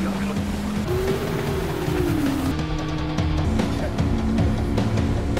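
An inflatable rubber boat's outboard motor drones through a chase scene, its pitch rising and falling against rushing water and other engine noise, with voices faintly underneath.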